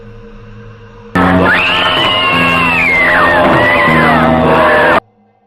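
A woman's horror scream as an audio-drama effect bursts in suddenly, loud and sustained for about four seconds with wavering pitch, then cuts off abruptly.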